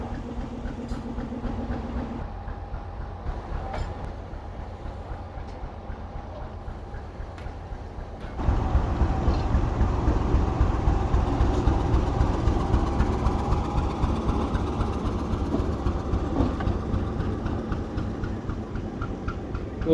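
A locomotive, uncoupled from its train, moves off alone on a foggy winter line, its engine rumbling steadily with a rapid mechanical pulse that grows noticeably louder partway through.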